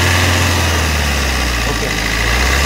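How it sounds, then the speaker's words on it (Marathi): Maruti Suzuki Ertiga 1.5 diesel DDiS engine, 2019 ZDi, running steady and loud up close, a continuous low throbbing drone with no clear rise in pitch across the stretch. "आणि आता आपण रेस करतोय गाडी"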